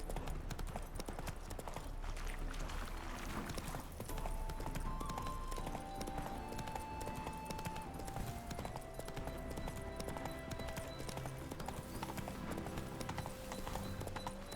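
Hooves of the horse Roach clip-clop steadily in The Witcher 3, a continuous walking rhythm set against a dense in-game backdrop of music and ambience.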